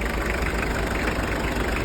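A car engine idles steadily up close, a constant low rumble with a faint mechanical ticking and no speech.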